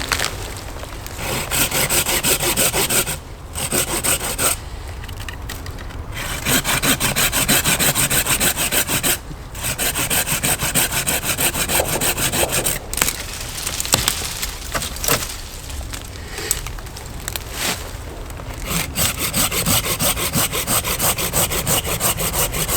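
A saw cuts through a wooden branch being trimmed for a tripod pot hanger, producing loud, close, continuous rasping strokes broken by a few short pauses.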